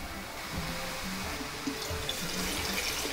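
Water pours steadily, rinsing leftover coffee through a funnel into a pitcher, a continuous close trickling and splashing with no voices.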